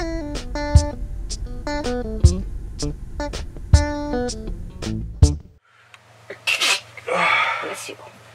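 A single sharp sneeze from a person near the end of a stretch of music on a bus in the morning, loud and close, followed by brief rustling.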